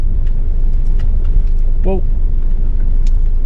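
A Mitsubishi L200 pickup with a rear locker crawls in gear up a steep off-road test course. Its engine gives a steady, close, low drone throughout, and a voice briefly speaks over it.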